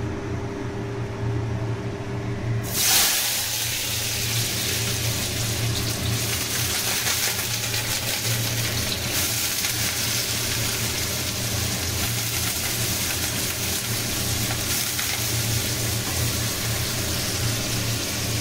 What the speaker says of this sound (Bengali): আলুটাকে এরকম ছোটো ছোটো করে কেটে রেখেছি, এটাকে এখন ভেজে নেব প্রথমে